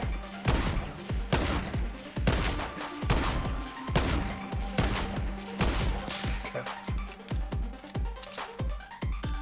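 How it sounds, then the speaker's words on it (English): Gunfire in a Fortnite match: repeated loud shots and bursts scattered across the clip, with thuds and crashes between them. "That black space guy is still firing at us from somewhere."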